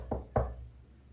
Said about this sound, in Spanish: escuchó que su papá tocó a su puerta